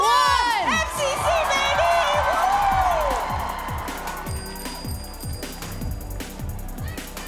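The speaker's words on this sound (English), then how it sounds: "So everybody stand up, make some noise, and count it down with me." A live esports event crowd at MCC Twitch Rivals in Rotterdam cheers and shouts loudly, with whoops and screams that start at full force and then slowly fade under a continuing roar.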